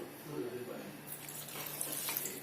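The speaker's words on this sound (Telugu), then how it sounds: "ఇప్పుడు మనం దీంట్లోకి నీళ్ళు వేసుకోవాలి" Water pours into a pan of fried brinjal curry with onion masala, a steady splashing rush that starts about halfway through and runs to the end, close and moderately loud, with no talking over it.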